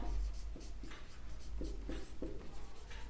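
Pen strokes scratch on paper while math working is written out by hand, in short, quick, closely spaced bursts with brief pauses between them.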